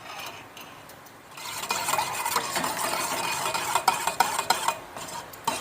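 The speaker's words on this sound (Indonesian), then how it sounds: "ini kita aduk hingga margarinnya terleleh semua" A spoon stirs margarine melting in a pan for sponge roll batter, a quick steady run of close scraping strokes with light clicks and a faint sizzle, no voices.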